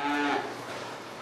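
Dairy cows on a winter farm housing about two hundred head, one giving a loud, close moo that lasts under half a second and then trails off into the barn's background noise.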